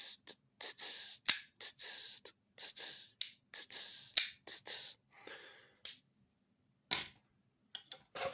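A folding knife blade snaps open with a sharp, crisp click like a finger snap. Several quick, close snaps repeat in a loose rhythm, separated by short silences.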